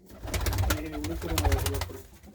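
Pigeons coo close by in soft, rolling throaty bursts, repeated a few times in quick succession over a short span.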